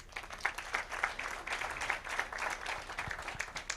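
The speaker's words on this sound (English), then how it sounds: "I think Pamela deserves a better applause." Applause for a presenter at a university mentorship programme event, a modest scattering of individual claps at moderate volume, somewhat uneven and thinning in places.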